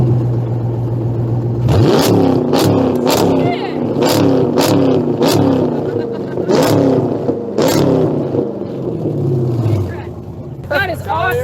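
Hemi-powered car with stock exhaust and electric exhaust cutouts opened, revving repeatedly in sharp blips that rise and fall, loud and close, with people talking over the engine.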